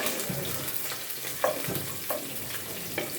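Whole spices and cardamom fry in oil in a pan while a spoon stirs them. A steady close sizzle runs throughout, and a few soft scrapes and taps come through it.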